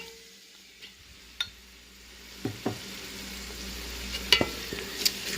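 Spaghetti sauce sizzling quietly in a pan as paste is stirred in, scattered spoon taps and scrapes rising over a low frying hiss, close, with no speech.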